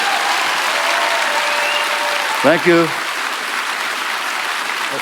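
Sustained applause from a fundraiser audience for a guest speaker, an even, dense roar of clapping, briefly overlaid by a short spoken word from someone near the microphone midway.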